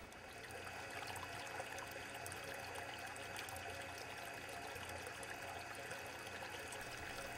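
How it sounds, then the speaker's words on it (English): A steady, continuous rush of flowing water, even and unbroken throughout, like water pouring and trickling from a trickle filter's media trays back into a holding tank. "This water is oxygen rich and very well filtered when it flows back into the holding tank."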